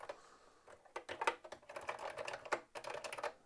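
Quick bursts of key clacks on a Coleco Adam computer keyboard, irregular typing in short flurries with brief pauses between them.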